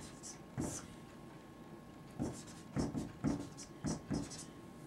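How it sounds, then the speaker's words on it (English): Pen writing out a math problem on paper, a string of soft scratchy strokes in short irregular bursts, faint and close, with a quiet steady hum underneath. "Let me first write down the problem."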